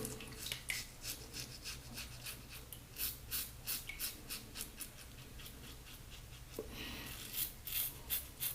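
A razor blade scrapes through lathered whiskers in short, repeated rasping strokes, close and fairly quiet, with a steady rhythm and no talking.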